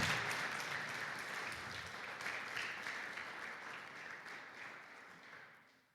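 A church congregation applauds, many hands clapping in a full, steady wash that gradually fades away toward the close.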